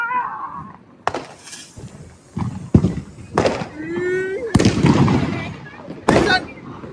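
Diwali firecrackers bursting nearby, several loud sharp bangs at irregular intervals with a whistling rocket, amid crowd noise and people talking and shouting.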